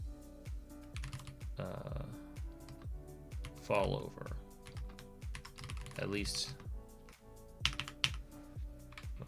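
Steady rapid typing on a computer keyboard, close and continuous with dense clicking keystrokes throughout, while a person talks quietly over it.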